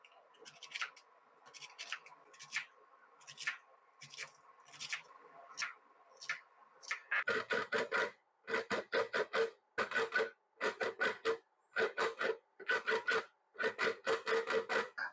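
Spring onions being cut and then fresh coconut being scraped in a kitchen, starting with a run of quick, crisp chopping strokes and giving way to louder, steady rhythmic rasping bursts of grating, close and without talk.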